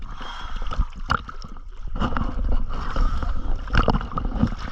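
Boat cruising along a water line, its hull sloshing and gurgling through the water with a steady churning wash and intermittent splashes close by.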